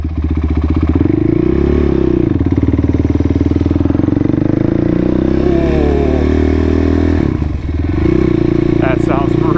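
Motorcycle fitted with a new Rossier exhaust, idling with a deep, loud, throbbing note up close, then a brief blip of revs near the end; the engine runs steadily the whole time.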